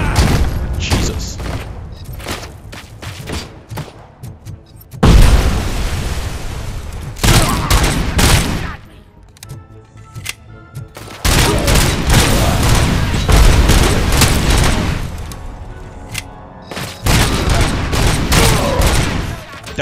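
Heavy gunfire in the RoboCop: Rogue City game, with dense bursts of rapid shots and booming impacts that come in loud waves and then drop away between volleys, loud and close throughout.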